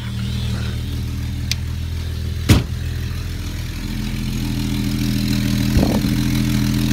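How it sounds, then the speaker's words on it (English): A 43-year-old car engine idles with a steady low rumble, broken by a sharp click and a later brief rev, close and alone. "A 43-year-old engine sounding this healthy."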